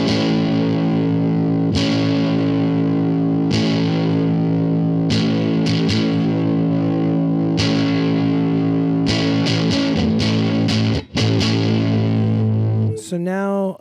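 Electric guitar through a Greer Soma 63 overdrive pedal with the bass knob turned up for a breakup tone, strummed chords ringing loud and gritty with distorted sustain, scattered sharp pick attacks and a busier flurry of strums near the end.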